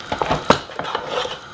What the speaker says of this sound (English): I'm going to go ahead and start mixing it